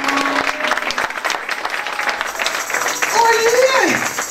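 Audience at a French-language church gathering applauds for the saints, a crowd of clapping that runs steadily throughout, joined by cheering voices and a rising shout near the end.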